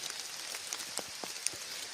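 Rain falls outdoors in a forest during a mushroom hunt, a faint, steady patter with a few distinct drops, and no voices.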